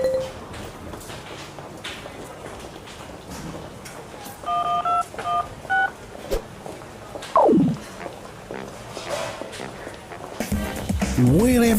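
A short run of telephone keypad dialing tones, evenly spaced beeps at mid loudness, sits inside an advert soundtrack with voices and music around it.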